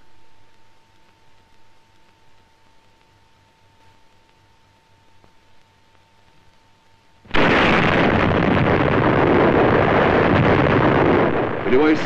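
A 1961 hydrogen bomb test explosion arrives as a sudden massive roar after a quiet stretch with a faint hum, then sustains a loud broadband rumble until the end.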